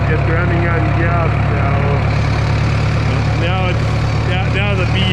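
A 1954 McCormick Super W6-TA diesel tractor running on gas, pulling in second gear with a loud, steady low engine drone throughout.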